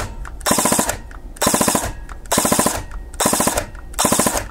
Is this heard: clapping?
no